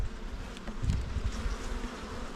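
Honey bees buzzing around an open beehive with frames and a super, a steady dense droning hum close by with individual bees passing, no voices.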